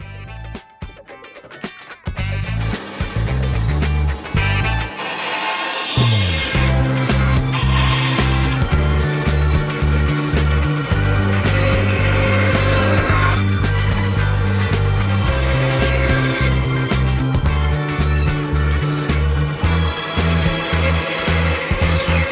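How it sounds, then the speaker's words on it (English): Bandsaw cutting small wooden frame pieces in a workshop, a loud continuous machine drone with rhythmic tonal pulsing, briefly interrupted near the start before the blade runs steadily to the end. "Let's quickly cut them off on the bandsaw."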